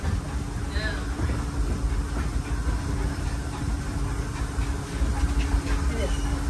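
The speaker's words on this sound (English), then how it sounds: "If you'll be leaving us here, please remain seated until the train comes to a complete stop." The Walt Disney World Railroad train rolling along its rails, a steady loud rumble with hiss and mechanical clatter heard from on board, with a voice talking over it.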